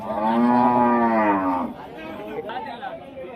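A pregnant cow gives one long, loud moo close by at a buffalo and cow market, then the call fades into faint crowd chatter.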